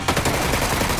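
Rapid gunfire from a shooter video game, a dense burst of loud shots running continuously through the second with no talk.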